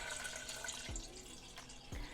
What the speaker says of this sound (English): I have another 4 cups of juice, so I'm going to put that in